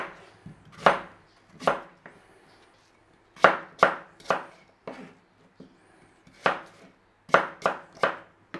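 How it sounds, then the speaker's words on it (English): A knife chops peeled green apples into cubes on a board for a rhubarb and custard pie. The chops are sharp and close, coming in an irregular run of single strokes and quick pairs, with no talk. "Just peel them off, and then we're going to cube them up and chuck them in there with that."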